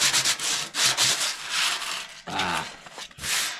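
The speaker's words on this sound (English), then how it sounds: "We're just going to linish this up." Metal being linished by hand with emery cloth, harsh scraping strokes in an uneven back-and-forth rhythm, close and fairly loud, with brief pauses between strokes.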